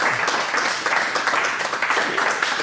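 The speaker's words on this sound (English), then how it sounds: "Let's give him a nice round of applause." A studio audience applauds on a TV talk show welcoming a singer, a dense, steady wash of many hands clapping at moderate loudness, filling the whole stretch without a break.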